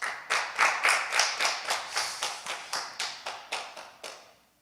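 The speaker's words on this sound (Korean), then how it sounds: "우리 모두가 행복하게 살길 바라는 마음으로 박수 한번 보내주시면 좋겠습니다." A church congregation claps in a slow, unified rhythm, about fifteen distinct beats in steady succession, fairly close and clear, then stops.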